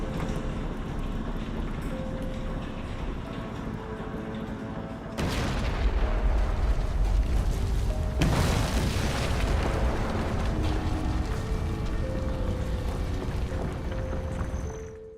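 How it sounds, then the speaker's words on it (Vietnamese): An old generator bursts into flames and explodes in the video game The Alien Cube, with heavy booming blasts and rumbling debris coming in two loud waves over a dense, noisy backdrop. "máy phát điện vì quá cũ nên nó phát cháy và nổ tung khi anh vừa lên đến chỗ"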